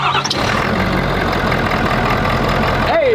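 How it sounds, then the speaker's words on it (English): A Ford F350 pickup's engine cranks and catches, then settles into a loud, steady idle close by, with a brief rising whine near the end. "You just put it in there like a stock one, shut it, and then now we can start the truck."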